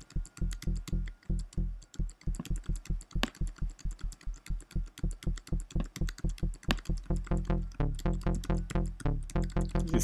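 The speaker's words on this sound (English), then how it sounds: "It's a nice little plucky sort of bass sound." Short plucky synth bass notes from a Sylenth patch repeat in a steady, quick rhythm, each with a punchy attack and fast decay, fairly quiet throughout.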